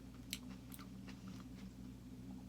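Someone chews crunchy keto onion rings up close, with a few soft crisp bites over a steady low hum.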